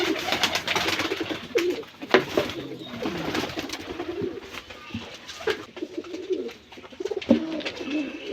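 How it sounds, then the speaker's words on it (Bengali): Native deshi Jalali pigeons coo in a repeated low, throaty pattern at close range, with rustling and scattered bird calls mixed in and no talk. "এটা হচ্ছে অরিজিনাল দেশি জালালি কবুতর।"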